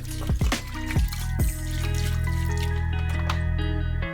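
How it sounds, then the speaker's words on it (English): White vinegar is poured over slabs of St. Louis ribs for grilling: a few drips and splashes, then a steady, close liquid stream that continues to the end. "grab your white vinegar and just douse these slabs of ribs with some vinegar."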